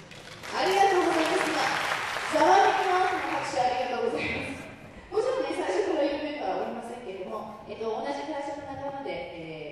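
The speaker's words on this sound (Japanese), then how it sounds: "ざわめきの拍手ありがとうございます。" Audience applause at a jazz concert in Kanagawa, moderately loud bursts of clapping that rise and fall while someone speaks over them.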